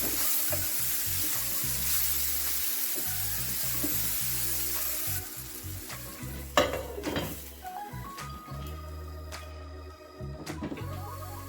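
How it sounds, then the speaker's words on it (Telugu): Tomato pieces fry in a hot pan for a North Indian methi sabzi, giving a steady loud sizzle with occasional stirring scrapes and clinks of a utensil against the pan, no voices. "టమాటా అయితే ఫ్రై అయిపోయింది"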